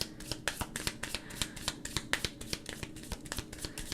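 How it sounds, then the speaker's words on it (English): Tarot cards are shuffled and drawn from the deck close up, a quick run of crisp riffling flicks and snaps in an uneven rhythm, quiet and alone. "now I'm gonna pull another cards here"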